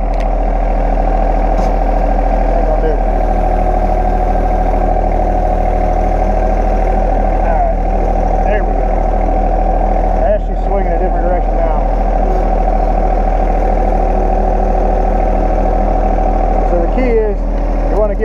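A tractor engine idles steadily with a low, constant rumble throughout, while someone talks over it.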